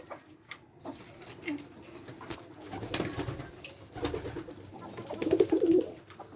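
Doves coo softly while building a nest from straw and hay laid out for them, the low rounded calls repeating irregularly at close range against a quiet background, with no talking.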